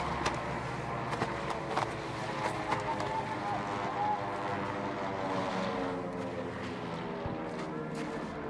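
Propeller warplanes drone overhead in a Battlefield V match, a steady layered engine hum that holds loud and unbroken throughout with faint game noises scattered on top.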